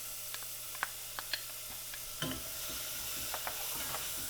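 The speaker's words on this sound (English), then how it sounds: "We're going to get that sauteing until it's tender." Chopped onion sizzling in melted butter in a pan, a steady close hiss with a few faint stirring clicks and one brief louder crackle partway through.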